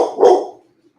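A single short bark from a dog, loud and close, with a brief fading tail and no other sound around it.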